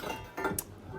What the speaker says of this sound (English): Fireplace shovels.